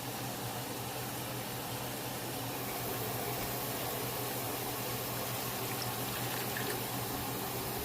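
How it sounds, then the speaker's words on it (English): Water runs steadily into a pot of collard greens on a home stove, a continuous close splashing and trickling hiss that keeps an even level for about eight seconds with no voices over it. "Now I'm going to add my water until I get to the desired filling."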